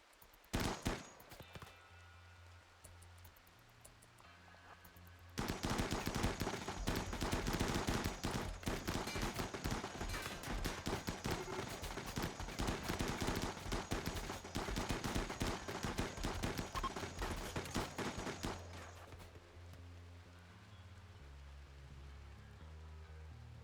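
RimWorld video game gunfire: a few scattered shots, then a dense sustained burst of rapid overlapping fire for about thirteen seconds before tapering to quieter sporadic sounds.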